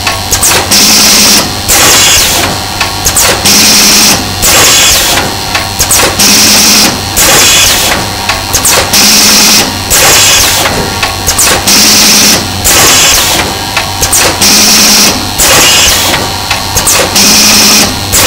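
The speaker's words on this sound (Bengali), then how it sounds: "দেখুন প্রোডাক্ট ছাড়া মেশিনটা অটোমেটিক চলতেছে।" Paper cone making machine running automatically with no material loaded: a loud, steady mechanical clatter with a regular repeating cycle of whirring and knocking strokes throughout, no voices.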